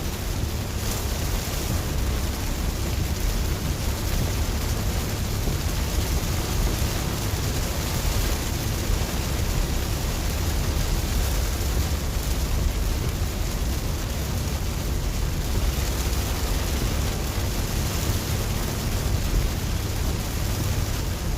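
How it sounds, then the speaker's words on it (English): Dense, steady rain roars continuously during Central Texas Hill Country flooding, a broad even hiss with no pauses and no voices. "I cannot believe it's still raining this hard right now."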